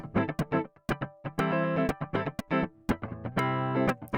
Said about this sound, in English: it's a DI guitar, so I have a dry guitar signal